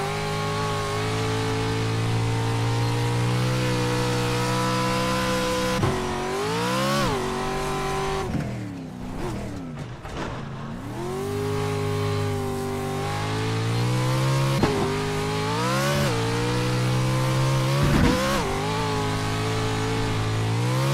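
A NASCAR race truck engine at Pocono drones loud and close throughout, its pitch dipping and climbing as the driver brakes and throttles through corners and down a hill.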